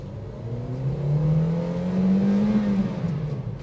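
A former flood-damaged taxi car accelerates, its engine revving up with a rising whine that climbs and holds before easing off, close and fairly loud.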